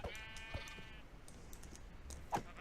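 A sheep in a survival video game bleats once in a drawn-out wavering cry, followed by light clicks and soft thuds at moderate volume, with no speech.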